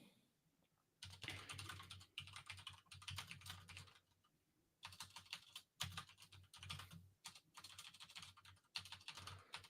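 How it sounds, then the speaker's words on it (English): Rapid typing on a computer keyboard with repeated backspace presses, dense clattering keystrokes in bursts broken by short pauses, quiet and close, with no voices. "typing so fast because I keep hitting backspace"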